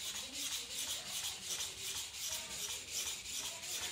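Hand polishing of a Japanese Tanaka kitchen knife, a steady rhythmic rubbing and rasping with even back-and-forth strokes, close and continuous with no talking.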